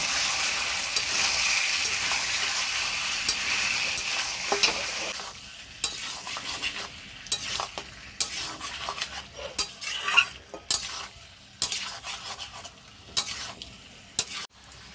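Desi chicken curry is stir-fried in a pan, first with a steady sizzle, then with a run of irregular metal spatula scrapes and clanks against the pan over a fainter hiss. No one speaks.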